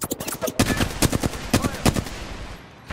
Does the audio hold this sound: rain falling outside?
no